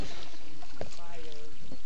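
A kayak is paddled on the water, with soft splashes and watery swishes heard close over the hull. Voices come in briefly underneath.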